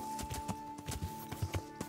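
A horse gallops in the medieval game Kingdom Come: Deliverance, its hooves beating a steady, quick clip-clop rhythm of soft thuds, fairly close but quiet, with a steady tone humming behind it.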